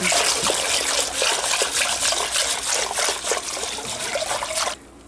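Milk pours steadily into a pot for goat Colby cheese broccoli soup, a continuous close trickling splash lasting several seconds before cutting off abruptly near the end.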